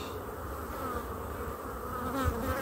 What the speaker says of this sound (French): Alors un beau cadre plein d'abeilles